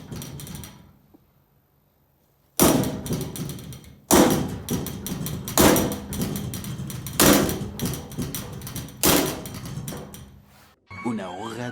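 A quiet stretch gives way to a series of loud, heavy metallic blows from a hammer and ratchet extension driving out a car exhaust downpipe, several strikes spaced a second or two apart, with clattering between them.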